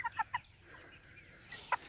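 A rooster clucks in short, bright bursts, three quick calls at first and another after a pause, heard faintly and close against a quiet outdoor background with no talk.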